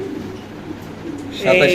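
Pigeons coo at a busy pigeon sale, a short burst of cooing near the end beneath a voice.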